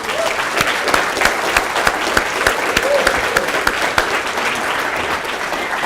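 A large convention audience applauds steadily, dense and continuous clapping at close range welcoming a keynote speaker, with no voices above it.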